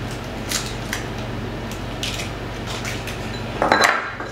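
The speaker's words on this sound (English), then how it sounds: "you're going to need 4 large eggs. So let's go ahead and break those in." Four large eggs cracked one after another into a pan, each giving a sharp, brief tap and crunch over a steady low kitchen hum, the final break louder and wetter.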